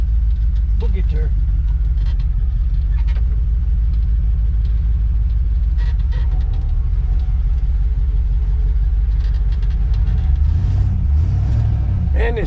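Chevrolet K10 pickup engine idling steadily, a loud continuous low rumble close by, with light clicks and clatter over it and a brief rev toward the end, while someone talks throughout.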